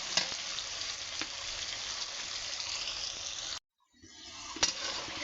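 Spice masala for vegetables fries in a pan, a close, steady sizzling hiss with faint stirring that cuts out abruptly for a moment, then resumes and builds back up; no one speaks.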